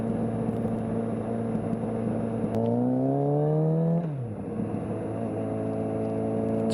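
Suzuki GSX650F motorcycle engine on a ride, droning steadily, then revving up in a rising whine before dropping sharply at a gear change and settling back to a steady hum.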